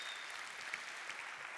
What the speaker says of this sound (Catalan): un aplaudiment per tots vosaltres